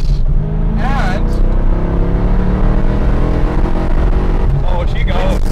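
An LS-swapped Porsche 911 revs hard and loud, the engine note rising and holding steady throughout, with people talking excitedly over it.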